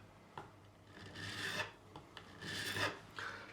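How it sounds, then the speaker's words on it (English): A coarse file rasps across the frets of a made-in-China Modern Player Fender Stratocaster during a re-fret, in two long, steady strokes with a brief pause between, close and fairly quiet. "that's a coarse file, I'm now going to go to the finer file, brand new one this one"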